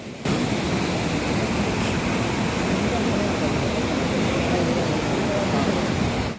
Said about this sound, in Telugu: కొత్తకోట, మదనపురం మండలాల శివార్లలోని భీమా ఫేజ్ 1 పంప్ హౌస్ నుండి అధికారులతో కలిసి దేవరకద్ర ఎమ్మెల్యే జి. మధుసూదన్ రెడ్డి దిగువకు నీటిని విడుదల చేశారు.